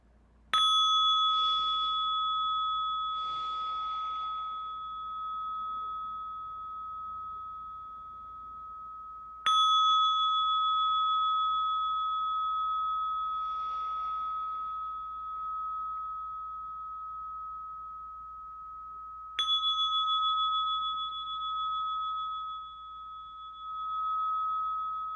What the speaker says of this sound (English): Just 3 bells to just ground us in this moment with our breath.